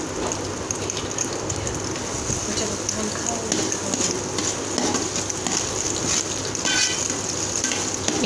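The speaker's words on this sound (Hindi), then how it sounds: "अब मैं प्याज फ्राई करूंगी।" Onions sizzle steadily in a pan after mushrooms, a continuous close frying hiss with occasional stirring scrapes and clinks throughout.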